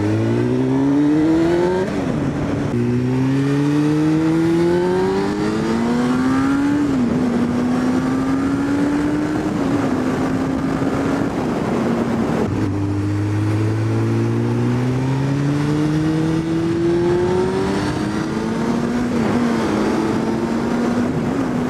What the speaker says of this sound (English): Gotta love that engine sound.